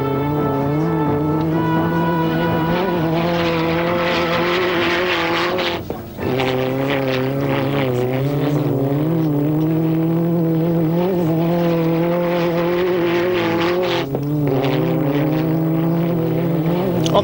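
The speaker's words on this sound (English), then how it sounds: "the gloves were off as Vatanen and X pushed their cars to the absolute limit" Peugeot 405 rally raid cars on the Paris–Dakar–Cape Town 1992 rally being pushed hard, loud close engines howling and rising in pitch through the gears, with two brief shift dips.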